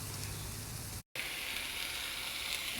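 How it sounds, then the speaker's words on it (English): Sautéed tomatoes and broccoli sizzle steadily in a pan, a close, even hiss of frying that drops out for a split second and then carries on unchanged. "We got a nice sizzle starting to go on our sauteed tomatoes and broccoli."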